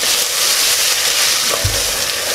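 Vegetables with turmeric and biryani masala are stirred in a pot for a vegetable biryani. A loud, continuous sizzle is broken by a brief spoon scrape.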